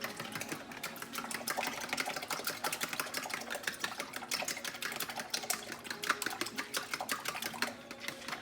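A fork whisks meat seasoning with garlic powder in a bowl, making a dense, rapid run of light scraping and clicking strokes that stays steady and close throughout.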